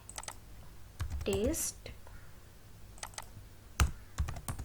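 Typing on a computer keyboard gives a few scattered clicks and short bursts of keystrokes, close and fairly quiet, with a voice speaking briefly partway through.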